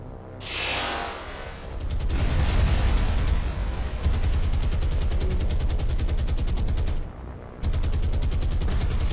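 A cruiser comes under rocket attack in the War on the Sea naval combat game: dense, sustained bursts of rapid gunfire and blasts roar almost continuously, with a few brief pauses.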